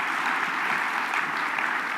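An audience at a sustainability summit in Denver bursts into sustained applause, a thick, continuous patter of many hands clapping at a steady level throughout.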